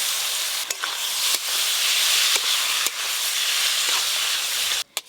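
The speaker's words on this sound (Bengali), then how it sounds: "এবার এর ওপর দিয়ে মাছগুলো দিয়ে খুব ভালো করে কষে নেব।" Loitta fish are cooked down in a pan with spice paste, chopped green chili and a little water, making a steady, moderately loud sizzling hiss broken by a few sharp stirring clicks.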